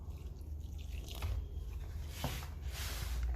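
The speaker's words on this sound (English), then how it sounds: "So finally add your water." Water is poured into chin chin dough with soft splashing and dripping, close and fairly quiet, with no talking.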